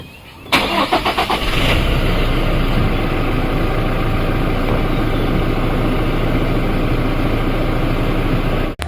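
A 2016 Toyota Fortuner's 2.4-litre 2GD FTV diesel engine cranks briefly, catches and settles into a loud, steady close-up idle that runs until it cuts off at the end.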